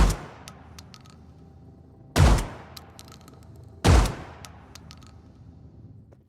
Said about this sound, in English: For the gunshot layers, I randomized the 3D positioning of the shell sounds each time the gun is fired